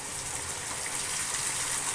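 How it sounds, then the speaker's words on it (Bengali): Water left from boiling meat is poured into a cooking pan of spices for a dry meat bhuna, a steady close gushing, hissing sound throughout. "এবার মাংস সিদ্ধার পানিটা ছিল ওইটাই দিয়ে দিলাম"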